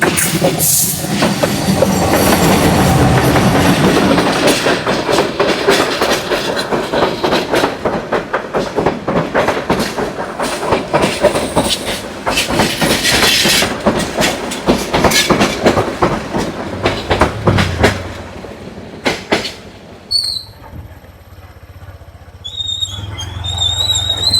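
A train runs along a railway through the forest near Sreemangal's tea gardens, a loud, close rumble and steady wheel clatter for about eighteen seconds before it fades and quieter outdoor ambience takes over.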